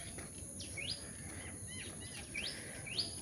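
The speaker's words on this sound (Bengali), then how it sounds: "চারিদিকে পাখির কোলাহল" Several birds chirp in quick rising tweets in the morning against a steady background hiss, the calls spaced a second or so apart and fairly faint.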